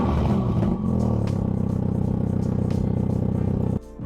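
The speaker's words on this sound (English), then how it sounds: "just listen to how loud the cold start is on this Cooper S." A 2020 MINI Cooper S engine cold-starting: loud, close, rough idle with a steady throbbing rumble and clatter that holds for several seconds, then drops abruptly near the end.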